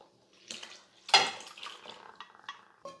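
Boiled goat head meat is tipped with its cooking water into a pot of fried masala, giving a few close splashes and pours with light metallic clinks of the pan in short bursts.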